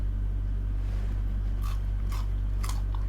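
Several crisp bites and crunches into a crispy Thai crab omelette, three short distinct crunches over a low, steady background hum, with no talking.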